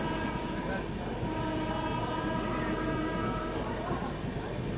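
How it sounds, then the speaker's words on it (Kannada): A Prayagraj–New Delhi Express train passes alongside on the next track, a steady loud rumble and rattle of wheels and carriages heard from inside a moving train, with faint voices in the background. "ಅದೇನು ಬಾಜು ನೋಡತ್ತಾರಲ್ಲ ಅದು VIP ಟ್ರೈನ್ ನೋಡ್ರಿ ಪ್ರಯಾಗರಾಜ್ ನ್ಯೂ ದಿಲ್ಲಿ ಎಕ್ಸ್ಪ್ರೆಸ್"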